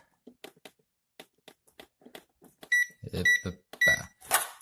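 An oven timer is set for banana bread: several light clicks and taps, then a run of short, sharp electronic beeps, each one close and clear, with a few button presses between them.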